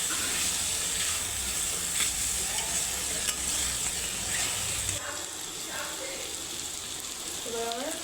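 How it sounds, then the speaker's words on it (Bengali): Chicken keema simmering and frying in its own released juices, a steady bubbling sizzle throughout with occasional stirring scrapes. "মাংসের জলটা ফুটিয়ে এসেছে।"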